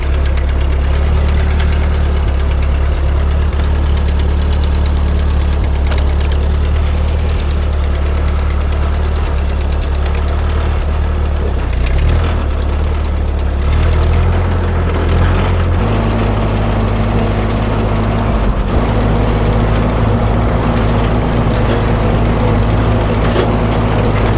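A rock bouncer's engine runs with a loud, knocking, rumbling idle that stays steady throughout, its pitch shifting slightly partway through.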